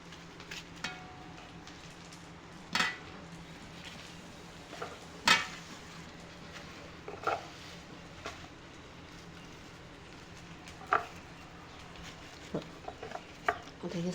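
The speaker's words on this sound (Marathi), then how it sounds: "आता ही कोवळी पानं घेऊन आपण छानपैकी अशी चिरायची." A knife chops tender pumpkin leaves on a board, giving faint, sparse taps and clicks at irregular intervals over a quiet background.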